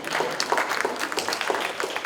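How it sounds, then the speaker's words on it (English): An audience at a community media and democracy forum in Dayton, Ohio claps steadily, a dense patter of many hands at moderate loudness with no talking over it. "you see people that are clapping"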